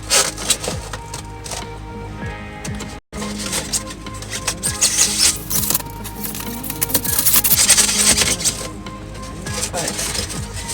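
Wood trim pieces for a vintage RV bunk being shaved by hand, rapid scraping and chipping strokes in irregular bursts, close and fairly loud, with a gap partway through.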